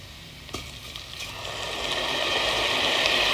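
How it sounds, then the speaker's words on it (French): Rice and vermicelli toast in butter in a pot. A soft, steady sizzle and stirring scrape build gradually louder, with a single knock near the start. "Je continue à faire mijoter jusqu'à ce que la vermicelle soit un peu dorée"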